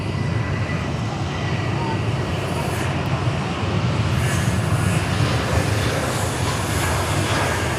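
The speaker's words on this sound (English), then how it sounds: "Malaysian 123 next arrival here on runway 16 right." Malaysian Airlines A330-300 jet arriving at Sydney Airport on runway 16 right, a steady broad roar of engine noise that holds at a moderate distance throughout.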